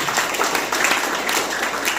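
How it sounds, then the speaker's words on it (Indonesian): Congregation applauding during a Christmas worship service, steady, dense clapping from many hands filling the hall at close range throughout. "Yang setuju berikan tepuk tangan."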